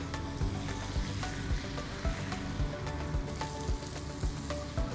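Sweet potato glass noodles for japchae are stirred in a hot pan, a soft sizzling hiss broken by quick scraping and clacking strokes at an uneven rhythm, close by with no talk.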